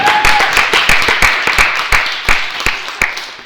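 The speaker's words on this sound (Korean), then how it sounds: "박수 한번 주세요. 박수." A church congregation claps during a worship service, an irregular scattered applause of many hands, moderately loud, with a faint voice at the start and no clear talk over it.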